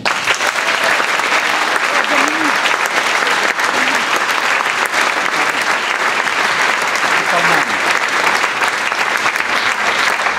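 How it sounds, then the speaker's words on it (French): A concert audience at a cultural centre applauds Dominique, a dense, steady wash of many hands clapping at full volume for the whole stretch, with no voices standing out. "Je vous demande d'applaudir Dominique."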